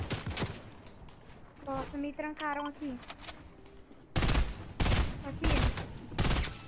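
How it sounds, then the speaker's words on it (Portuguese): Rapid gunfire bursts from the video game Fortnite crackle loudly in the second half, after a stretch where a person talks over a faint melodic game sound. "Tá vindo tiro, eu já achei."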